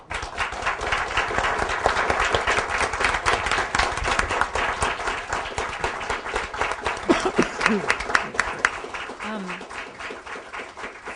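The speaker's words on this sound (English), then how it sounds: "Let me just take a moment to give a round of applause" An indoor audience gives a sustained round of applause, dense and steady for about eleven seconds, with a voice briefly audible beneath the clapping.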